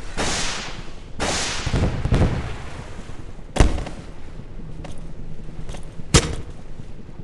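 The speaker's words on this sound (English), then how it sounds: "but it also has gas cannons." Gas cannons firing in the Melon Playground video game: several sharp, loud cracking blasts spaced a second or two apart, with quieter thumps between, no talking.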